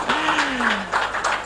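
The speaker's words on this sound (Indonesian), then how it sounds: "Tepuk tangan." Brief burst of audience clapping after a call for applause at an Indonesian talk, dense and steady over about a second and a half, with a voice briefly sounding beneath it.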